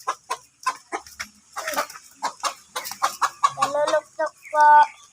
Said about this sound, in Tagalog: Ito po yung manok namin.